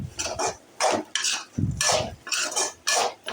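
Potato fry stirred in a pan with a metal spoon, giving about six bursts of close scraping and clinking in a steady rhythm with no sizzle behind it.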